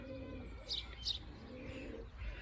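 A pied bar racing pigeon cock cooing inside a shed, soft throaty calls close by over a quiet background.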